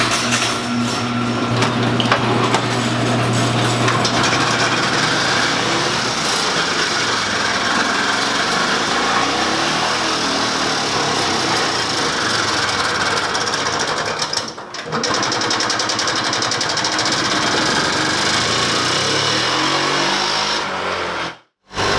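A cheap, small gas golf cart engine runs steadily with a buzzing, high-revving drone while the cart drives, holding a constant level for about twenty seconds before cutting off abruptly at the end.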